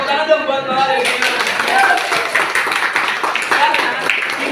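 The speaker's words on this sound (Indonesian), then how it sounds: "Tepuk tangan dong buat Lala dari sini." A group of students claps together in a school classroom, a dense, steady patter of many hands lasting throughout, fairly close, with some voices mixed in.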